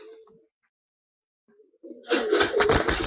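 Pigeon cooing from a Teddy pigeon pair in a loft, starting faint and then swelling into close, loud wing-flutter and bird noise.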